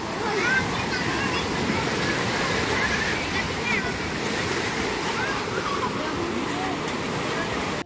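Sea waves wash onto a beach in a continuous, fairly loud surf roar, with wind buffeting the microphone and faint voices underneath.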